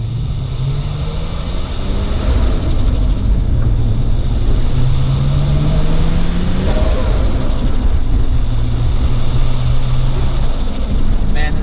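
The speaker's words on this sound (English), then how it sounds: "Car sounds so good." Nissan Skyline drift car drives along an empty street in Japan, its engine droning loud and close with rising and falling revs as it shifts through gears, steady and continuous throughout.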